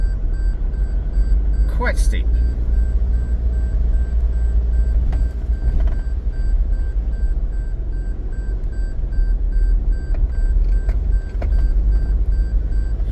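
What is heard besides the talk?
4WD vehicle beeping after shifting into low range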